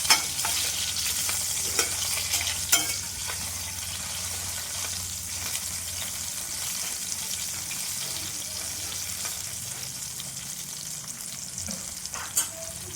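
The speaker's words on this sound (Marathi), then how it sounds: "दोन्ही बाजूने छान व्यवस्थित वांगे फ्राय झाले" Eggplant slices fry in oil in a pan with a continuous bright sizzle, broken by a few sharp clicks and scrapes of a utensil, steady and close throughout.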